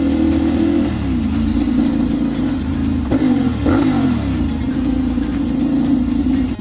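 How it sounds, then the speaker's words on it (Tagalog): Steady motorcycle and car engine noise in stuck traffic on Recto, heard from a 450SR motorcycle, with a continuous loud drone and a few revving pitch sweeps from passing vehicles, no speech. "So ayun, stuck muna tayo sa traffic."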